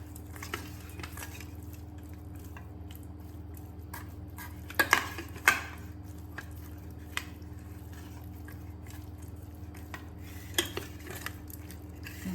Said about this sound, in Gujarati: હવે આપણે આને મિક્સ કરી લઈશું.